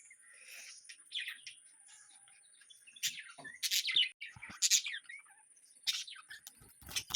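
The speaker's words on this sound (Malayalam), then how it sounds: "കിളിക്ക് തീറ്റ കൊടുക്കാൻ വേണ്ടി ഇറങ്ങിയതാണ്" A small bird chirps in short, high bursts close by, pausing between calls against a quiet background.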